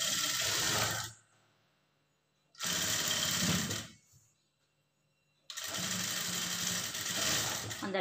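A sewing machine stitches a blouse lining in three separate runs, loud and close, each a steady mechanical whir that stops dead between bursts, with quiet gaps in between.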